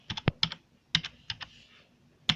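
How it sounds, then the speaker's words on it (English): Quick taps on a Logitech K480 Bluetooth keyboard, a short close burst of keystrokes, a brief pause, then a few more presses and a final single key. "here we are with our Bluetooth keyboard"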